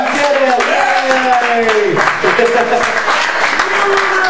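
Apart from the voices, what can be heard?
audience applause at a stand-up comedy show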